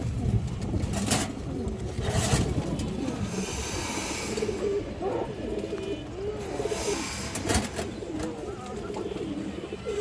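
Road Master pigeons, among them a female, coo in a loft, repeated soft throaty rolling calls from nearby birds overlapping one another, with occasional bursts of wing flutter or rustling between them.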